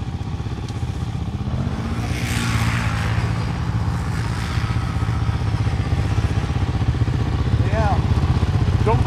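An ATV engine drones steadily at moderate distance throughout at the Lake George Winter Carnival, with a brief rise as it passes, while people talk over it.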